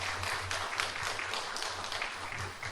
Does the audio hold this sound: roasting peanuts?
no